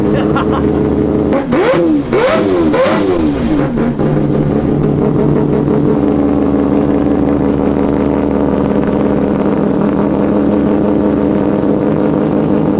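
A six-rotor Mazda RX7 engine revs loudly and up close, with sweeping rises and falls in pitch early on before settling into a steady, heavy drone.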